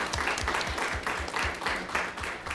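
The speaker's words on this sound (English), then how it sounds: "let's give her a round of applause as well" A school district governing board meeting audience gives steady applause, dense and even, with a faint rhythmic low thumping beneath and a slight murmur of voices.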